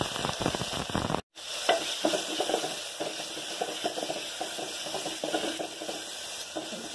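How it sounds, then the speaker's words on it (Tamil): Small onions, tomato and curry leaves sautéing in oil for a Tamil gravy: a steady close sizzle with stirring scrapes and clinks of a ladle against the pan, broken by one brief dropout. "வெங்காயம் தக்காளி கொஞ்சம் வதங்கிடுது."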